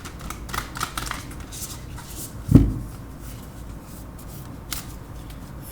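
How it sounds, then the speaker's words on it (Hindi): Animal Spirit Guide oracle cards being shuffled by hand, soft papery riffles with one sharper snap of cards midway, close and fairly quiet. "one last card animal spirit guide oracle से"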